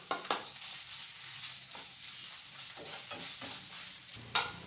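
Spices and aromatics sautéing in a pan, a steady soft sizzle with a few sharp scrapes and clinks of stirring, fairly quiet and close.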